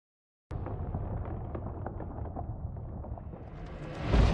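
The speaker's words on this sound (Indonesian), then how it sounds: "Tessa mengaktifkan perabotannya, menyebabkan tubuhnya membeku dan meledak" A deep, rumbling blast that bursts in suddenly and churns on with crackling debris, swelling louder and heavier toward the end.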